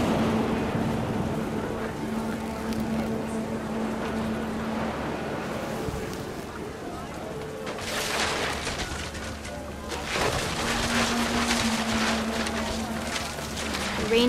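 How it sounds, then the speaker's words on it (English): Rain pouring down in the video game What Remains of Edith Finch, a steady wash of noise throughout with low tonal hum beneath and heavier gusty surges midway. "Rain came down in buckets then"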